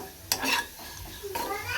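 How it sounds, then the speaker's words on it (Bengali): Potatoes sizzle in a hot pan while a utensil scrapes and stirs them in a couple of quick strokes, close up. "আলু ভাজা হচ্ছে"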